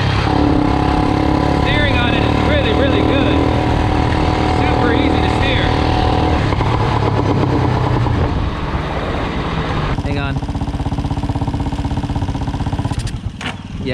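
Small gas engine fitted to a modified Power Wheels Ford F200 toy truck, running loud and close with an uneven, faltering drone that dips and sputters near the end, with people talking over it.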